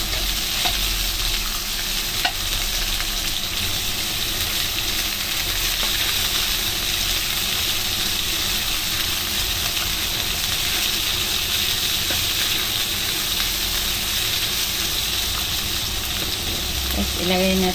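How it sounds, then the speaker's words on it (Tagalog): String beans and bitter gourd stir-fry in a hot pan for monggo, a constant loud sizzle and hiss with occasional scraping from stirring throughout. "Tapos ng sitaw, lagay natin yung ampalaya."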